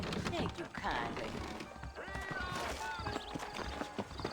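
Horse hooves clip-clop in the video game Red Dead Redemption, a steady rhythmic trotting of saddled horses under game ambience and background voices.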